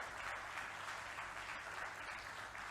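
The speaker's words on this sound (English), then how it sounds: "Yes, round of applause, please, of course." A conference audience gives quiet, distant applause, a steady wash of clapping at low level with no talking over it.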